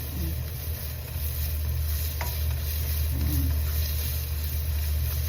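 Steady sizzling and scraping of sinangag (garlic fried rice) being stir-fried in a hot pan, with a constant low hum and no voices, loud and close throughout.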